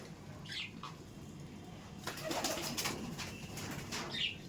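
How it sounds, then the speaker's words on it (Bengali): Kaldom pigeons coo softly in a loft, a few low, throaty calls with a brief flutter of wings, faint and close amid quiet background rustling. "হ্যাঁ, খুব ভালো লাগছে পায়রা।"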